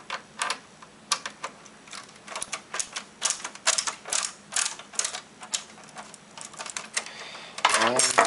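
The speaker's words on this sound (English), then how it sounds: "unscrew this" Screws are unscrewed from the board of an original 60 GB PlayStation 3 by hand, giving a close run of quick ratcheting clicks and light scraping taps in irregular bursts, fairly loud and near.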